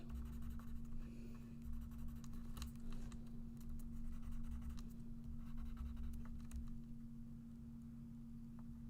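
Quiet scratchy strokes of a Derwent Inktense colored pencil moving across paper, steady and close, over a constant low electrical hum.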